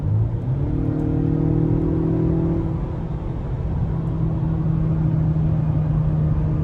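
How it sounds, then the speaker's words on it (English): A 2024 Acura RDX Elite's 2-liter turbocharged four-cylinder engine hums steadily from inside the cabin, rising in pitch as it accelerates, with a whirring tone over a low rumble. "Again, this is a 2-liter turbocharged 4-cylinder engine."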